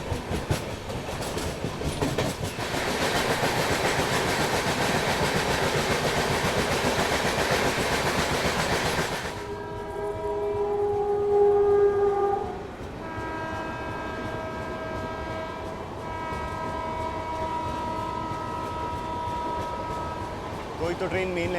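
A fast train on the main line near a large West Bengal junction station roars past with a dense rumble and rattle, then fades into a sustained chord of horn tones heard at moderate distance.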